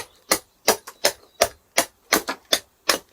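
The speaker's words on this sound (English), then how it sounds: "Because I'm hammering in" A camp axe is struck repeatedly into wood, eight or nine sharp, evenly spaced knocks ringing out close and loud with brief silence between each blow.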